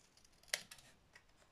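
Scissors snipping the two corners of a small beginner's craft box, most likely cardboard or card stock: one sharp, crisp snip followed by a couple of fainter clicks, close and quiet with no talking.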